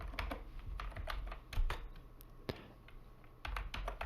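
Quick, light clatter of a computer keyboard as a terminal command is typed, irregular bursts of close, crisp key taps with short pauses between.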